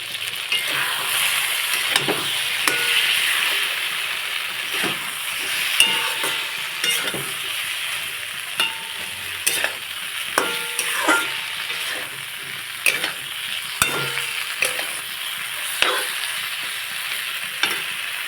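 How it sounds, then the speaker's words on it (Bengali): Eggplant pieces with chili powder and spices fry in a pan with a constant sizzle, while a spoon scrapes and stirs in irregular strokes up close. "ভালো করে বেগুন আর মশলা কষা হয়ে গেছে"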